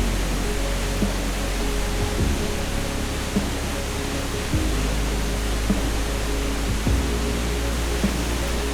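A waterfall in Costa Rica runs full during the rainy season, producing a steady, dense, loud rush of falling water that holds evenly throughout with no voices.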